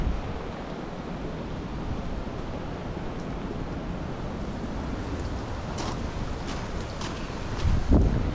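Strong hurricane wind roaring steadily during Hurricane Milton in St. Johns County, Florida, a dense continuous rush with rustling gusts and a louder surge near the end, no voices.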